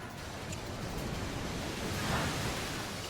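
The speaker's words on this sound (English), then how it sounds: "It goes for a Muddy Water." Muddy Water attack effect in a Pokémon battle game: a rushing, surf-like wash of noise that swells slightly toward the end, steady and alone with no voices.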